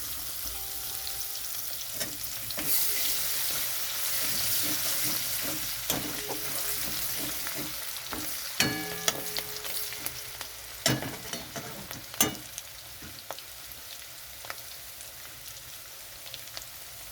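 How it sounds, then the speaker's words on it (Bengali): Whole garam masala, bay leaves and garlic sizzle and crackle in hot oil left from fried chicken, with steady frying hiss and several sharp spatula clatters near the end, no voices. "ওই তেলের মধ্যে আমি দিয়ে দিচ্ছি গোটা গরম মশলা, তেজপাতা, এখানে দিয়ে দিচ্ছি রসুন"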